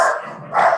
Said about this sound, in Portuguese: desculpa o cachorro